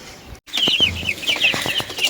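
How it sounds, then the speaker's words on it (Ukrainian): Chickens cluck in short, repeated high calls close by, with a brief rustle of movement and no talking. "Ось, друзі, наші курочки"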